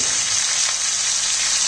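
Sliced onions and tomatoes frying in hot oil in a pan while cooking capsicum masala curry, a loud, close, steady sizzle that continues without a break.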